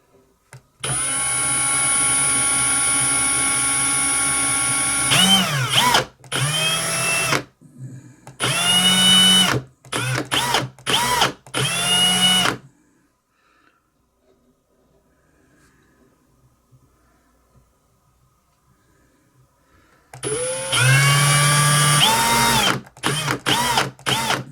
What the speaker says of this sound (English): It's drilling.